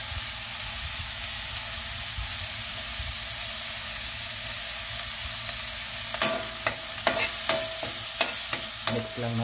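Onion and garlic sizzle in oil, a steady hiss that runs throughout, with a series of sharp clanks from stirring toward the end.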